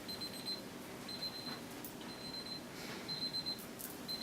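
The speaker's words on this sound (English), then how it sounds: "It's the clock sitting next to the TV, by the TV. That's what that beeping sound is." Thin, high electronic beeps from a clock repeat in short clusters against a quiet hum, faint and steady with brief gaps.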